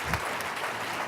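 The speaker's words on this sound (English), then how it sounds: "let's give another round of applause to Shelley" An audience at a community conversation on mental health applauds to welcome a speaker onto the stage, a dense burst of clapping that holds steady at a moderate level before trailing off.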